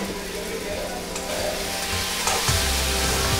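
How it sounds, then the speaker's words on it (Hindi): Tomatoes fry lightly in a pan for a Bengali fish curry, giving a steady close sizzle with occasional stirring scrapes and a louder crackle surge near the end. "अभी देखिए टोमेटो हल्का सा फ्राई हो रहा है"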